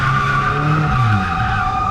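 Car drifting on a closed circuit with a tire that has burst, giving loud continuous skidding and squealing with steady engine roar close by, no talking.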